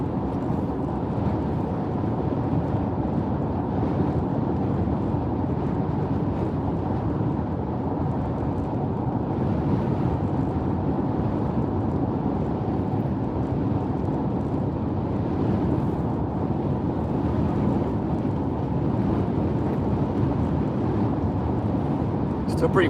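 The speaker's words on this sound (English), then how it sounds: "Still pretty breezy today." Strong wind buffets a microphone during a storm chase in East Central Oklahoma, a loud, constant low rumble and roar that persists for the whole stretch without letting up.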